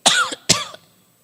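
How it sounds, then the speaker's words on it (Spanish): Two quick coughs from a man close by, a short pause between them, then quiet. "y hasta me dan ganas de toser."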